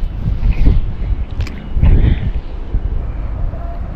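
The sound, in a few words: strong wind at sea on a fishing boat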